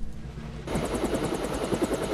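A helicopter in the video game Deus Ex starts up abruptly, its rotor chopping in a steady, fairly loud rhythmic thrum with a whining engine underneath, alone without speech.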